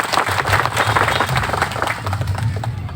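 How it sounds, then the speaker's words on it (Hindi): A crowd applauds steadily, dense clapping at moderate volume throughout, with faint voices mixed in. "इस पर तो ताली बजने आती है।"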